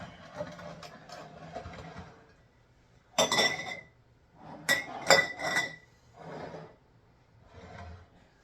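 Glass canning jars clink and knock together in several short, close bursts while hamburger meat is packed for pressure canning, with quieter handling noises between them.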